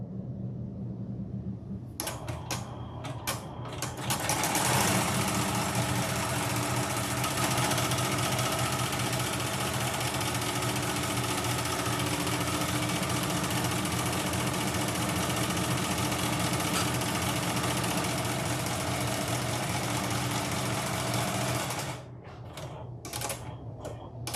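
An embroidery machine top stitches the front panel of an in-the-hoop zipper bag, a steady rapid mechanical whirring and needle chatter running continuously for about twenty seconds before stopping, close and fairly loud with no talking.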